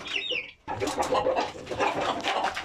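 Aseel chickens clucking and calling inside a coop, a busy overlapping chorus of close clucks that fills nearly the whole stretch after a brief quiet gap.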